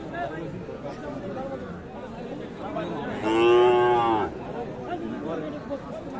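Sahiwal bull calves at a busy cattle market, one loud drawn-out moo rising close by over a constant background of crowd chatter and talking.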